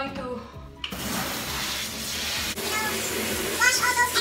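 Water sprays steadily from a shower sprinkler while a turtle enclosure is rinsed and cleaned, a continuous close hiss that starts abruptly and runs on alone.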